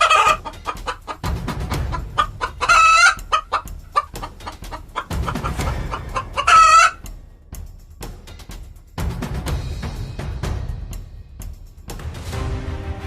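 Cartoon chickens cluck repeatedly in a loud, close farmyard scene, with two sharp rooster-like crowing bursts standing out over the clucking and short pauses between the flurries.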